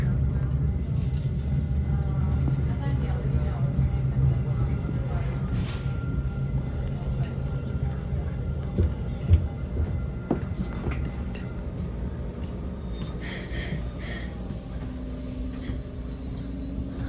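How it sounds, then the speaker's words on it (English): Caltrain southbound express train pulling into San Mateo Station, heard from inside as a steady low rumble with clanks and a rising squeal near the end, under faint background noise. "here we are pulling into San Mateo Station to make our scheduled stop"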